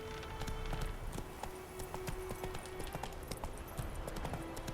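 A horse trots in The Witcher 3 video game, its hooves clip-clopping in a quick, steady rhythm at close range against faint ambient game sounds, with no speech.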